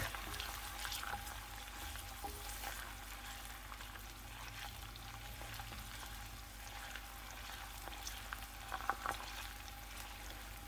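Onion and garlic fry in a pan for a quick Tunisian sauce, a steady soft sizzle and bubbling hiss running continuously with faint occasional clinks and no voices.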